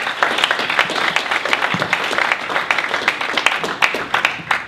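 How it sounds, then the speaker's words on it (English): Audience applause at an evening holiday pitch competition, a dense, steady burst of many hands clapping that fills the room for several seconds without a break. "please give a round of applause for Ken."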